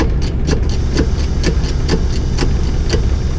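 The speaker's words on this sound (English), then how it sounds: "The air noise you can hear is the self-leveling valve down here." Air hisses in regular short bursts, roughly every half second, from the self-leveling valve venting the airbag suspension on a Dennis Dart bus, heard up close over a steady idling engine.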